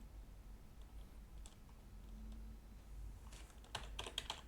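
Computer keyboard keys tapped during C# programming work, a few faint scattered clicks followed by a quick closer burst of typing at the end, quiet room with no speech.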